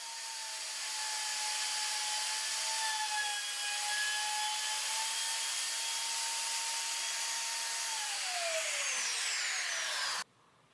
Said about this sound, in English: routed in 2 keyholes on each shelf using a keyhole bit and a plunge